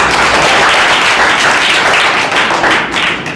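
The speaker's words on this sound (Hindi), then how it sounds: "तालियां" Loud, dense audience applause welcoming a team at a school quiz event, sustained clapping from a crowd throughout, tapering slightly toward the end.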